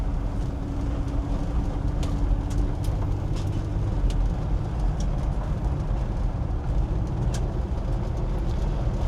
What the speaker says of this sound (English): now it's down to the city in the Nova with a 6-litre LS in it